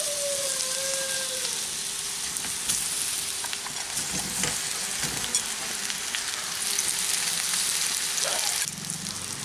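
Potato and brinjal pieces frying in hot refined oil, a dense, continuous sizzle like steady rain, close and even, with a few scraping stirs and no talking.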